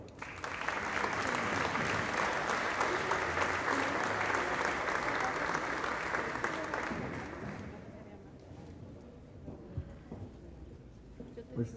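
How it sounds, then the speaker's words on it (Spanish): Warm applause from a conference audience welcoming a speaker at a lecture on electoral reform, a dense, steady roar of many hands lasting about seven seconds before tapering into scattered claps and room noise. "para quien les pido un caluroso aplauso."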